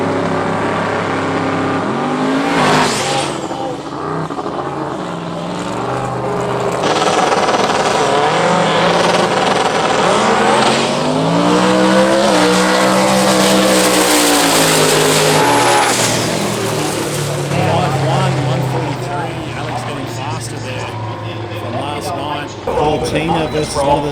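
Turbo Hemi drag cars on radial tyres, including a black ute, roaring close and loud as they rev, launch and accelerate hard, with tyre noise and an announcer talking over the engines.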